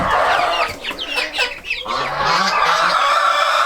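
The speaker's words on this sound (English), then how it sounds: "Getting visits from the rest of the flock." A flock of chickens clucks close by in a coop, with several overlapping birds chattering continuously and fairly loudly.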